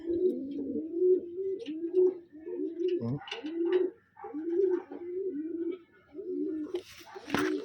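Pigeons coo close by in a steady series of low, rolling calls, one after another with brief pauses, alongside a few faint rustles and a short burst of noise near the end.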